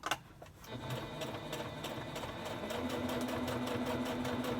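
Sewing machine stitching fabric layers for a pleated 3D face mask, running in a steady rapid rhythm that builds slightly in speed, heard close up and alone.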